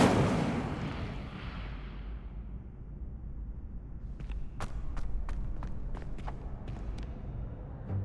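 Incendio fire spell cast in Hogwarts Legacy. A loud whooshing burst of flame opens and slowly dies away into a roaring hiss, followed by a series of light clicking footsteps.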